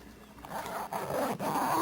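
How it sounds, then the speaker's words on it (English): A zipper on the cover of a 2026 Caymas CX21 boat being pulled closed, a quick, close ripping zip in a few short strokes with brief pauses between them, no voices. "Just unzipper that. Boom. It's right there staring you in the face. Close it back up."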